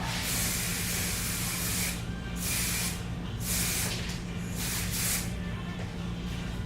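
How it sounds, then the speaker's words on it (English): Strong luminous hairspray sprayed onto styled hair in a series of steady hissing aerosol bursts, close and fairly loud over a constant low background hum, with no talking. "Now I'm going to go through with the strong luminous spray"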